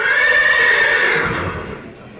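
A stallion at the 2015 Etalon Show du Centre Est lets out a loud, close, drawn-out neigh lasting about two seconds that tapers off at the end, with no talking over it.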